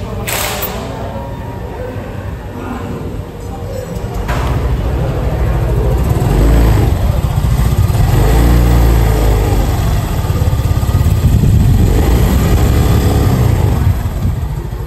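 A Yamaha Freego scooter bored up to 160cc idles, then revs into a louder, rough steady drone that swells and holds, close to the listener, with occasional voices in the background.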